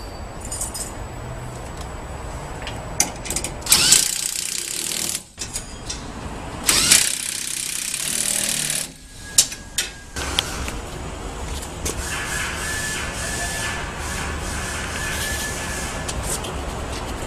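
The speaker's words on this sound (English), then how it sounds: "tighten down the roller bolts" Roller bolts on SuperSprings SSA 28 helper springs tightened on a 4x4 truck, heard as metallic ratcheting and tool clatter in bursts with short pauses, close and fairly loud, without speech.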